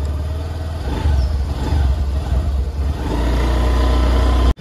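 A car engine drones on the road to Nainital in Uttarakhand, a loud, steady low rumble that swells slightly midway and cuts off abruptly at the end.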